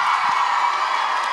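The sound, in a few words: audience cheering for a panel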